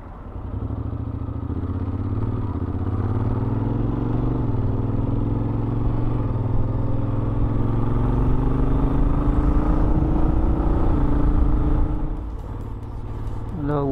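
A motorcycle cruises along a road in Phang Nga, Thailand, its engine droning steadily with gradual pitch rises as it gains speed, heavy wind rumble underneath, then easing off near the end.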